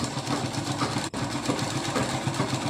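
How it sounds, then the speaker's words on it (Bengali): A sewing machine stitches folded fabric for palazzo pants in a steady, close, continuous mechanical whir with a fast needle rhythm, broken only by a very brief stop near the middle. "কাপড়টা এইভাবে ফোল্ড করে সেলাই করে নিলাম"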